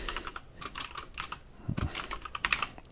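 Fingers type on a computer keyboard in quick, uneven bursts of soft, close key clicks, with short pauses between runs of keystrokes.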